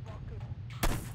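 A single sharp gunshot from the video game Hitman Blood Money bursts out near the end, after a low, steady game background with faint talk.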